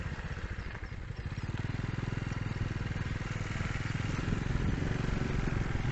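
A motorcycle ridden along a forest track in Phitsanulok, its engine thrumming in a fast, even pulse that builds slightly in loudness, close and continuous with rattling clatter underneath.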